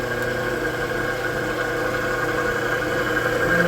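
A metal lathe runs on auto feed with a steady mechanical hum and faint whine, continuous and close with no pauses.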